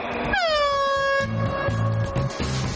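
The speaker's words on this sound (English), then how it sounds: "on the sound of the horn" A loud air horn starting an ice race blasts once, a bright sustained honk lasting about a second, with rumbling, clattering noise of the racing vehicles continuing underneath afterward.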